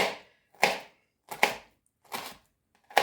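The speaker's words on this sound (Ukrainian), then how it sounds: "Дрібненько так нарізаю все і змішаю з фаршем." A knife finely chops vegetables for a dumpling filling against a board in five separate, evenly spaced strokes, crisp and close, with quiet gaps between them.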